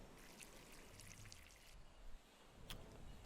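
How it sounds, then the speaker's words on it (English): Water poured onto the soil of a potted plant in a greenhouse in a survival farming simulator game, a faint, steady hissing trickle that runs without a break for a few seconds. "let's water the soil"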